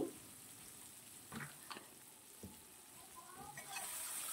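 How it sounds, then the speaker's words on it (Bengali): Turmeric, coriander, chili and cumin powders are stirred into pointed gourd in a frying pan. A quiet, steady sizzle runs underneath, with a few soft spoon scrapes scattered through it. "এই মশলাটা আবার আমি খুব ভালোভাবে মিশিয়ে দিচ্ছি এর সঙ্গে"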